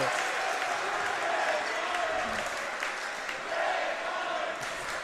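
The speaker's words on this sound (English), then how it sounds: "With a crowd chanting his name" Crowd at a boys varsity high school basketball game, Deerfield vs New Trier, chanting a player's name after a slam dunk: a dense, loud, continuous roar of many voices and cheering filling the gym.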